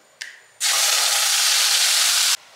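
Tomato, ginger and garlic paste hits hot oil with a sudden loud, steady sizzle that holds for nearly two seconds and then cuts off, after a brief clink just before.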